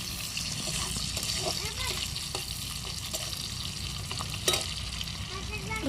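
Green chillies fry in a pan with a constant, close sizzle, broken by light stirring scrapes and an occasional clink throughout.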